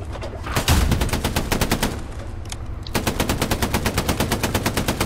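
Automatic gunfire in Hell Let Loose, rapid evenly spaced bursts at close range, pausing briefly near the two-second mark before a steady, sustained stream resumes to the end.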